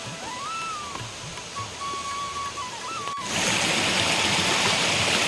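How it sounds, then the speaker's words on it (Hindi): Small forest waterfalls and a stream flow with a steady rushing hiss, a thin wavering whistle or tone over it at first, then the water surges louder and closer for the last couple of seconds. "चारों ओर झरने वगैरह हैं, छोटे बड़े झरने"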